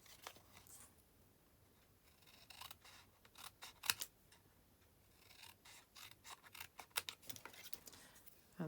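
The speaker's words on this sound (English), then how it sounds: "I'm just going to trim round that" Paper being trimmed by hand with scissors around a stamped card: quiet, intermittent snipping and rustling in short bursts, close by with no talk.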